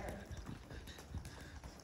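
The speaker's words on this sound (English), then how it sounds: "Now I need to see you trot." Horse hooves strike the ground at a trot during a trail horse riding session with two riders aboard, a rhythmic series of dull thuds close by, mixed with a person talking over the beat.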